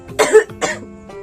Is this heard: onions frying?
no